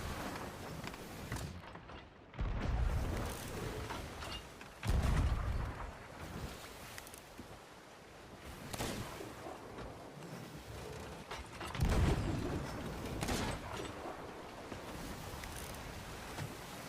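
Cannons firing in the pirate video game Sea of Thieves, several heavy booms spaced a few seconds apart over a background of sea, wind and creaking ship sounds, with no talking.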